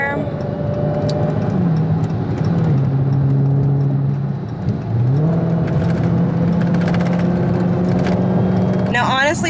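Dodge Hellcat engine pulling hard from inside the cabin, a loud steady drone whose pitch dips at a gear change and then climbs again, with someone talking over it throughout.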